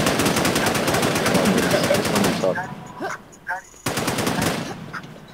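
Rapid machine gun bursts rattle loudly in the video game Infestation: The New Z, followed by a few scattered shots and a brief spoken word.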